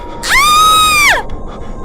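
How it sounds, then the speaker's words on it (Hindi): A woman's single loud, high-pitched scream in an animated Hindi horror story, rising sharply, holding for about a second and then falling away. "पूजा की चीख निकल गई"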